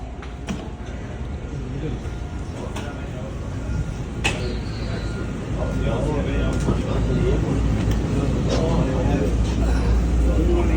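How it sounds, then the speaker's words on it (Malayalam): An airport train heading to Terminal 1 rumbles with a steady low drone that grows louder partway through, with faint clicks and knocks inside the compartment. "അങ്ങനെ നമ്മളിത് ട്രെയിനിൽ കയറിയേക്കാണ് ടെർമിനൽ 1 പോകാനായിട്ട്"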